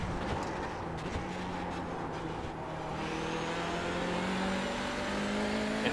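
A Hyundai Veloster TCR race car accelerating hard out of a corner at Oulton Park, a steady engine roar with rising tonal harmonics as it pulls through the gears, continuous and fairly loud with no talk.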